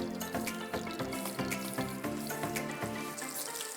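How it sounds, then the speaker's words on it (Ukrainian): Quiet, soft sizzling of food frying in butter in a pan over medium heat, with faint crackles and small pops running steadily throughout, no voices. "Розігріваємо вершкове масло на сковороді. Смажимо на середньому вогні"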